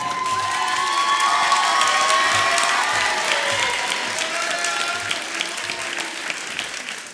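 A crowd at a CASA graduation ceremony in 2022 claps loudly and continuously, with a few scattered cheers and children's shouts mixed in, before the applause tapers slightly toward the end.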